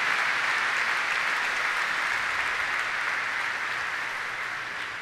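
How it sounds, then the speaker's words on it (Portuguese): A church congregation at a Christmas Mass claps steadily in dense, sustained applause that fills the space and tapers slightly toward the end. "Uma salva de palmas a vocês que vieram"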